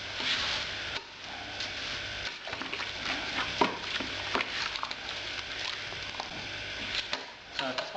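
Oats being stirred into a beer mash for a stout on a home brew day, a steady wet scraping and patter with small clicks going on throughout and no voices.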